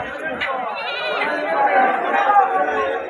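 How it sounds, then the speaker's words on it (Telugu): Sheep bleat in short, wavering calls at a busy sheep and goat market in Mydukur, rising over a steady crowd chatter that runs throughout the clip, with people talking close by. "ఈ పక్క ఉన్నాయి కొన్ని గొర్రెలు."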